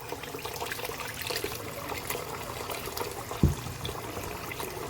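Beef and pig's tail are washed by hand in water with lime juice, bringing soft, close trickling and sloshing with one sharper splash near the end.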